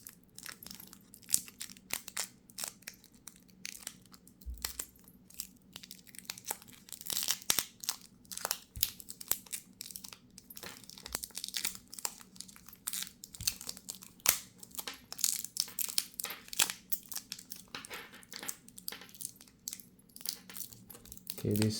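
Tight plastic protective film crinkles and tears as it is peeled off a metal-clad G-Shock GM-2100B watch during an unboxing, a steady close run of crackling and rustling with faint talk underneath.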